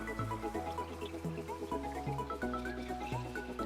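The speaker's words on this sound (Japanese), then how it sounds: "でちょっとこっちも中洗いたいから少し水入れるね" Water splashing and dripping into a container being rinsed, a run of small gurgling, plinking drops with a steady low hum beneath, fairly quiet and without talk.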